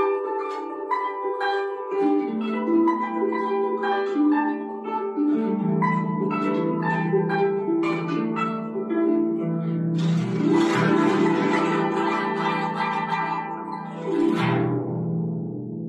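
Guzheng plays plucked melody before a bright, shimmering passage in the water drop technique, imitating ice melting and water dripping in Spring Comes to Himalayas, heard solo and up close.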